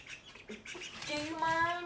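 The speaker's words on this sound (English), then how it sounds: "The ducks are funny." Ducks give a few quiet, scattered calls, building to a nasal, drawn-out quack near the end, heard close but faint.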